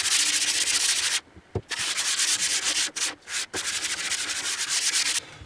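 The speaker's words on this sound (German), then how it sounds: "Ich schleife jetzt erstmal." Rapid back-and-forth rasping of 240-grit sandpaper on paulownia wood, loud and close, with a few brief pauses between bursts of strokes.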